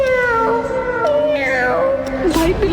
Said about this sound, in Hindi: भाई बिल्ली वो फिर आ गई।